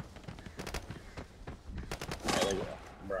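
Gunfire in the shooter game Arena Breakout: rapid automatic bursts crackle through the clip and grow louder near the end, while players talk over the shooting.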